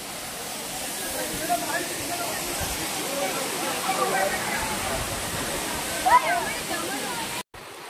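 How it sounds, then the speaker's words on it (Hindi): Waterfall at Daringbadi in Odisha, a steady broad rushing roar of falling water heard fairly close, with a person talking over it. "देखो वाटरफॉल देखो समस्ते गाधौं देखो उपरू पड़ुची पानी"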